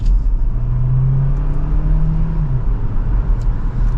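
A 2024 Hyundai Tucson Hybrid Limited accelerates mildly from second gear, heard from inside the cabin as a steady low engine hum with a brief rising drone over road noise.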